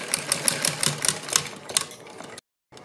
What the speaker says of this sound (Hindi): और इसके बाद यहाँ सिलाई लगाएंगे।